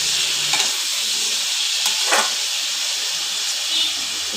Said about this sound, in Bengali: দেখো বেগুনের মধ্যেও আমি আবার নুন, হলুদ দিয়ে ভালো করে বেগুনটাকে ভেজে নেব।